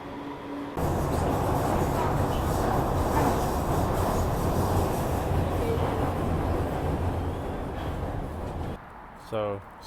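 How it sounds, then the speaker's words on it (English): A Beijing metro subway train rides along with a steady, loud rumble and rattle of carriages and wheels running continuously, ending with a brief screech as it slows near the end. "So just got off the metro in Dongjimen."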